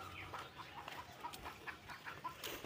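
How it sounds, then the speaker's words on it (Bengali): Chickens in a village yard cluck in short repeated calls, fairly faint and steady, with several birds overlapping against a quiet rural background. "এই যে মুরগি পালে"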